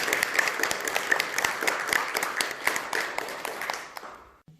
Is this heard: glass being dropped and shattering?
no